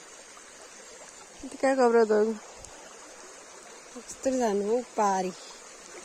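A big river streams past in a constant rushing wash that stays steady throughout, while a person talks briefly over it twice.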